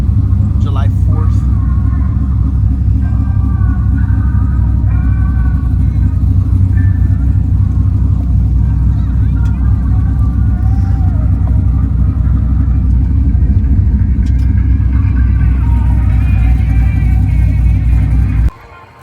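Heavy low engine rumble at a drag strip where big-tire drag cars test and tune ahead of a July 4th event, a loud steady drone with some revving, while a person talks over it throughout.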